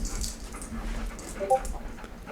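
A pet dog whimpers softly and pants in a quiet room, with faint thin whines rising briefly over steady breathing, close by.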